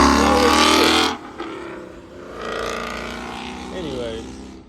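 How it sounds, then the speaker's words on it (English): A loud Ford Mustang engine roars close by, then drops off sharply, leaving a lower rumble as a voice talks over it. "this loud ass goddamn Mustang."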